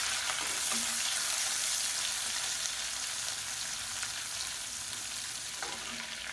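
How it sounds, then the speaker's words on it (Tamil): Vegetables fry golden in a pan with a bunch of curry leaves and chopped green chillies, making a steady, even sizzle with light stirring and no voices. "இது எல்லாத்தையும் பொன்னிறமாக வறுத்துக்கலாம்."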